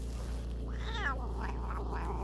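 A pet cat makes a strange warbling, chirping vocalization while having its back scratched, a single wavering cry in a quiet room with a low steady hum underneath.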